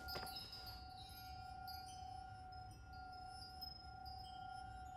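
A brief glassy clink rings out at the start of The Suicide of Rachel Foster, followed by a sustained tonal hum and quiet ambient drone with no talking.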